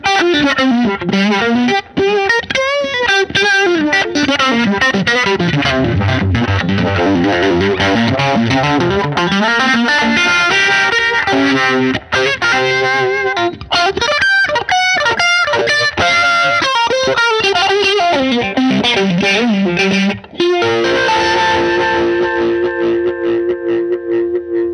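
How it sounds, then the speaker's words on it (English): Electric guitar through a JAM pedals RetroVibe Univibe effect, with the modulation swept by an expression pedal, playing loud sustained riffs and chords whose throbbing, phasey swirl speeds and deepens throughout without any talking. "And more with this expression pedal."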